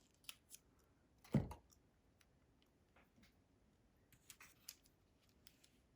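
Scissors snipping clear plastic wrap on a Valentine's treat slider craft, one quiet close cut followed by a few faint, scattered ticks in a near-silent room.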